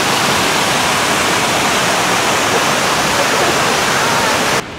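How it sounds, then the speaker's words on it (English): A waterfall at Cambria Castle roars steadily and close, a dense, loud, unbroken rush of falling water that cuts off abruptly at the end. "let's have a nice little look at this waterfall"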